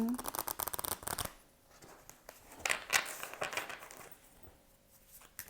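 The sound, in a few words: shuffling tarot cards for a reading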